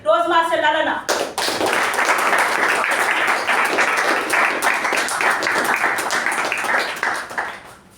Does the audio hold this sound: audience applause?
yes